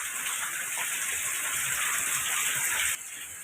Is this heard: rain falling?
yes